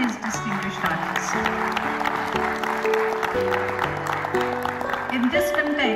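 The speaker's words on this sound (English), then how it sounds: "give a very big round of applause in the appreciation of all these distinguished artists" Applause from an audience honouring distinguished artists at a college event in Jalandhar, a steady wash of clapping blended under sustained musical tones throughout.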